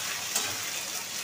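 Chili, soy and tomato sauces being stirred in a frying pan make a steady, close hissing sizzle with a single small clatter partway through, no voices.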